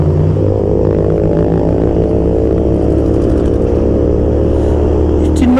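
A Ferrari 488 sports car engine drones loudly and steadily, a rich buzzing tone held throughout and rising in pitch near the end as it revs.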